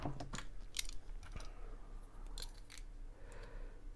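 Scissors snip through plastic model kit parts for a Faller Power Tower ride, giving a few quick, close cutting clicks and crunches in a quiet indoor room.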